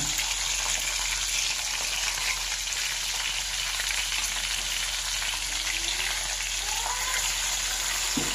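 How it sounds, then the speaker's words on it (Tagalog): Fish frying in a pan, a steady dense sizzle and crackle of hot oil running throughout at close range with no talk. "Unang gawin, prituin yung isda."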